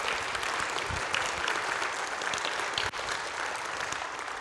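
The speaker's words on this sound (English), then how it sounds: "Can we give them a round of applause?" Broad, sustained applause fills a church worship service, honoring the kids and families of a weekend camp; the clapping is even and steady throughout, with a few louder knocks standing out.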